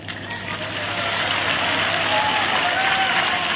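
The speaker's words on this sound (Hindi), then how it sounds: "सबने ताली बजाओ" Applause from an audience at a gathering or initiation ceremony, a dense, steady crackle of many hands clapping that swells slightly and holds loud throughout.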